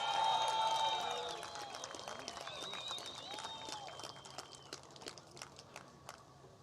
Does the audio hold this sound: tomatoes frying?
no